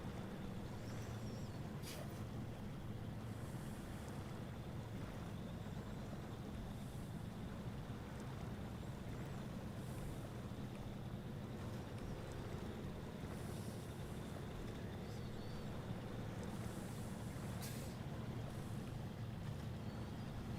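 Truck engine in the video game SnowRunner, a steady low droning rumble that holds unbroken at an even level throughout, with a faint airy hiss above it and no voices.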